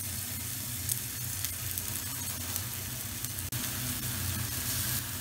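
Thin beef McRib patties sizzle steadily in a hot griddle pan, a close, even crackling fry that holds at a constant level with a low hum beneath and no talk.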